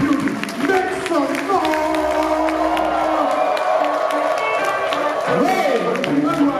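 A wedding crowd at a marriage celebration in Benin City, Edo State, cheering and whooping loudly, mixed with shouted voices and background music, sustained throughout.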